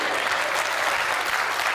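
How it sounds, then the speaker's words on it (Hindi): A seated crowd at a Hindi comic poetry gathering breaks into dense, continuous applause, many hands clapping evenly and loudly throughout the short stretch. "एक बार भाई साहब के लिए भी तालियां दे दीजिए"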